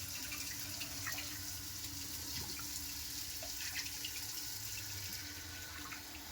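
Water draining from an ornamental fish tank being cleaned of algae, a soft continuous trickle and splash like a running tap, faint and steady throughout, with no talking.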